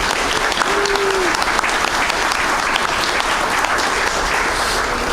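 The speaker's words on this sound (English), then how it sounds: "give her a quick round of applause." Enthusiastic audience applause at an awards banquet, loud and sustained throughout, a dense crowd of clapping hands.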